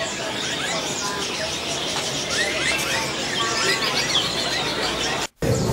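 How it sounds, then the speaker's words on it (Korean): Songbirds at an Indonesian bird market chirp and trill in a dense, overlapping chorus, with many calls at once against a busy, noisy background. "새소리를 들으며 피로를 푼다는 인도네시아 사람들."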